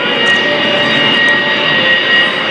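An AV-8B Harrier II jet at an air show, its engine giving a loud, sustained roaring whine with a steady high tone, close and unbroken for the whole stretch.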